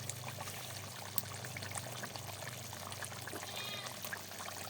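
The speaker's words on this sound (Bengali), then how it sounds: "এই মশলাটা বাটির সাথে লেগেছিল, তাই সামান্য পরিমাণ জল দিয়ে গুলাইয়ে দিলাম।" Water poured in a thin, steady trickle into a bowl to loosen leftover ground spice paste during rustic village-style mutton cooking, close and continuous with low background hum.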